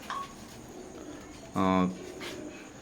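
Teddy pigeons of an imported Oman bloodline give one short, fairly loud coo over quiet background noise, with a faint softer sound before it.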